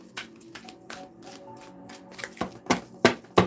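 Playing cards are shuffled in a series of quick riffles and taps, close and fairly quiet, with the bursts growing sharper and louder toward the end; no talking.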